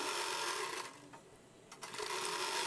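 A sewing machine runs along the double-folded hem of a child's umbrella frock, a close, fast whirring rattle that dips briefly in the middle and then resumes at full speed.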